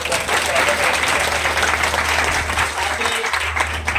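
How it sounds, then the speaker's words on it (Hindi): Loud, sustained applause from a gathered audience at a free coaching centre event in Udaipur, thick continuous clapping across the whole stretch with a low hum beneath it. "एक बार जोरदार ताली से"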